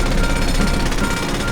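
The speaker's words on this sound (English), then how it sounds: "Now, let's see how the pencil drill works." A small pencil drill running on a miniature construction model, giving a continuous rattling, buzzing hammer-like drone from start to finish with no pauses.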